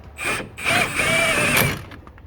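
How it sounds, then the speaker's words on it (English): A pneumatic impact gun tightens the brake caliper bolts on a Nissan Rogue during a rear brake pad job, giving a short whirring burst followed by a longer sustained mechanical buzz, close and loud, with no talk. "so I can use my gun to tighten up those bolts"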